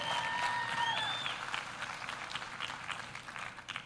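Audience applause at a TEDx talk, a broad steady patter of many hands clapping, moderately distant, with a few whistles near the start and the clapping gradually thinning.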